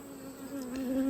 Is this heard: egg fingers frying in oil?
no